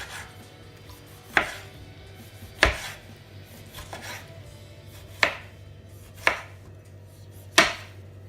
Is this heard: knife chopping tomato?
yes